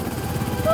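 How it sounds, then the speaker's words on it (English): Cartoon helicopter in flight, a steady low rotor drone running continuously under a music-like bed, with a brief rising tone near the end. "Let's follow that helicopter."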